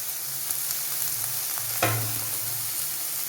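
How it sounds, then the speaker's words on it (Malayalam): Carrot and capsicum with a pinch of salt sauté in a hot pan, giving a steady, moderately close sizzle with a brief louder burst of stirring partway through and no talking. "കാരറ്റ് ഇട്ടു, ക്യാപ്സിക്കം ഇട്ടു, അല്പം ഉപ്പും ചേർത്തു. ഇനി ഇത് നമുക്കൊന്ന് വഴറ്റിയെടുക്കാം."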